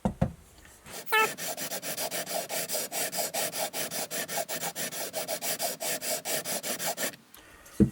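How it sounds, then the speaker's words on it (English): Guitar frets on a Charvel Charvette 270 sanded with 2000 grit sandpaper, with a long run of fast, even back-and-forth rubbing strokes, close and steady, that stops abruptly. "And this is a 2000 grit sandpaper"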